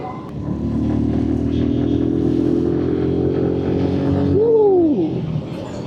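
Motorcycle riding at moderate speed on a road between Chapainawabganj and Amnura, its engine a steady loud drone with rising and falling pitch near the end, wind rushing throughout.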